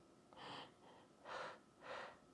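A person practises deep, rhythmic breathing as a labor breathing exercise, with audible breaths drawn in and pushed out in a steady pattern: four soft, airy pulses, close to the mic and quiet, and no talking.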